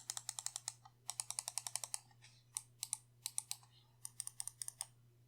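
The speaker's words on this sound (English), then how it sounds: "The clicks on this mouse are quite satisfying and very nice to use" Crisp, snappy button clicks from a Razer Orochi V2 gaming mouse, arriving in quick bursts of several clicks separated by short pauses, close and fairly quiet over a faint steady hum, with no voices.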